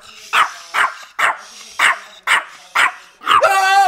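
A dog barks in a steady rhythm, seven sharp, loud barks spaced evenly and close by, the last one drawn into a longer whining yelp.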